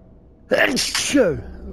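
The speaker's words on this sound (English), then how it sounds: "I'm going to sneeze" A single loud sneeze bursts out after a brief quiet moment, close and sharp, trailing into a short voiced exhale.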